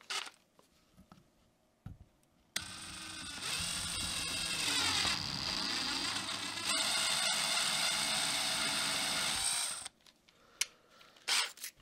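A drill bores holes in PVC with a 1/4 inch bit, a loud continuous whirring grind lasting about seven seconds, preceded and followed by brief handling clicks and clatter.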